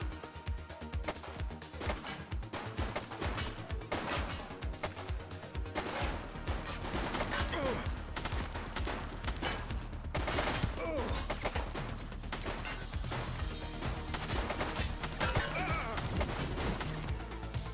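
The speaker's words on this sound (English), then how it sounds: "Shots fired!" Gunfire in a police video game, with repeated sharp shots and bursts crackling over a dense, busy game mix of crashes and clatter, running steadily throughout at a moderate level, with some game voices mixed in.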